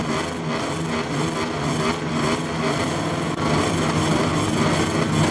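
MotoGP racing motorcycles launching from the start of a sprint race at Losail, Qatar, in the MotoGP 2024 video game, a dense, steady, loud roar of many engines that swells and holds without any talk.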